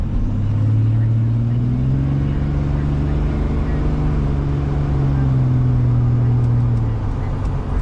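A Cummins diesel engine in a truck drives past a Chevy with a loud, deep, steady rumble that swells and holds for several seconds, heavy and close throughout.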